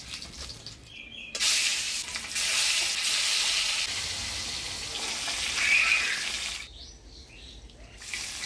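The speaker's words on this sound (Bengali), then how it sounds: "আজকে আমাদের মাছের তেলে বড়া করছে" Pangas fish fritters fry in fish oil in a home kitchen, giving a loud, steady sizzling hiss that swells in after a quiet start, runs for several seconds and cuts off near the end.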